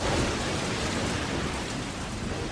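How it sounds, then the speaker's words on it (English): Torrential downpour of Welsh rain beating on a roof, a dense, loud, unbroken roar of rainfall with no pauses, heard close and alone. "the torrential downpour has brought all the work on the roof to a standstill"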